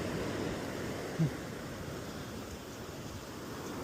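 Ocean waves roll in at Coronado beach, a steady, hushing wash of surf and wind that stays fairly distant and even, with one brief soft thump partway through.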